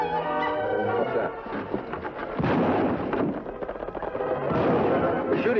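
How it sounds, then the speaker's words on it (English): Gunshots fired from over a ridge in a Western setting: several distant cracks and booms echoing under urgent voices. "Shots sound like they come from over ridge."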